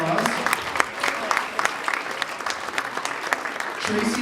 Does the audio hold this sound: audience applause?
yes